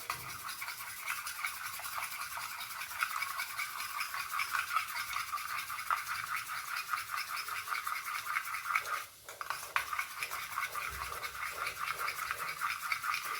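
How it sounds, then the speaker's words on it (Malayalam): Eggs beaten with grated coconut in a bowl for an omelette, a fast steady rhythmic whisking and scraping, close and fairly quiet, with a brief pause partway through. "എന്നിട്ട് നമുക്ക് നന്നായിട്ട് അങ്ങ് ബീറ്റ് ചെയ്ത് കൊടുക്കാം."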